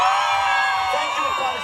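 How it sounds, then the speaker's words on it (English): A hotel night show audience cheers for a contestant with loud whoops and shouting crowd noise that swells steadily and then eases off. "All right, loud applause."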